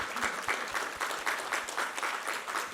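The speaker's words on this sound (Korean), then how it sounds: "우리 하나님께 감사와 영광의 박수 올려드리겠습니다." A church congregation claps at a Sunday worship service, the applause pulsing in a clear, regular rhythm of group claps, moderately loud and uninterrupted by talk.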